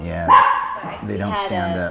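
A pet dog barks a few times indoors, close and fairly loud, with people talking casually over and around it in a home setting.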